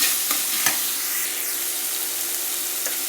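Egg burji frying in a pan with chilli powder added, a steady close sizzle with a few scraping stirs of the spatula, no talking.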